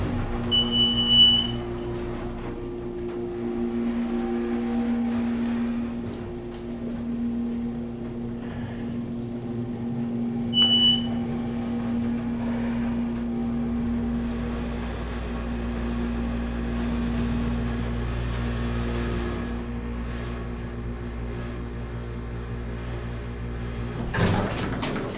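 A Westinghouse hydraulic elevator at a mall runs steadily, its machinery humming with a sustained tonal drone while the slow doors move, marked by two short chimes and a clunk near the end.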